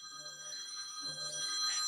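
A phone rings with a bright, tonal electronic trill repeating twice during a church sermon, fairly faint beneath the room's murmur.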